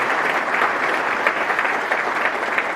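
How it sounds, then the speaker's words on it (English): Guests at a Marine Corps division ball ceremony giving the ceremony team a round of applause; full, even clapping from a large crowd, steady and loud for the whole stretch. "So please join in a round of applause for the whole team."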